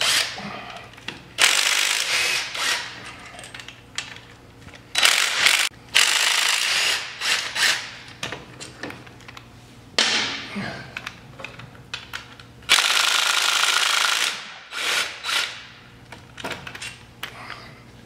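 A 10 millimeter socket works bolts loose while removing the rockers on a Polaris Sportsman 500 engine, giving irregular ratcheting and metallic scraping bursts with pauses, close up.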